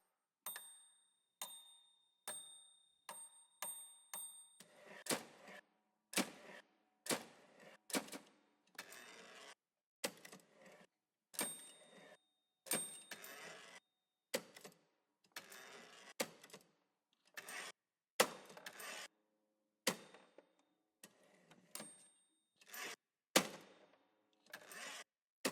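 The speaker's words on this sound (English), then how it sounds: "then something that's really funny, typewriter. I love that they sampled this too." Sampled typewriter from the CinePerc percussion library: crisp mechanical key strikes, a fast cluster at first and then slower, irregular clacks with bell-like ring, clear and alone.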